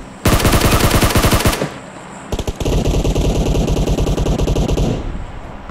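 Rapid automatic gunfire from players in the mobile battle-royale game PUBG Mobile, two loud sustained bursts of fast, rattling shots separated by a short pause, close and dominant with no talk over them.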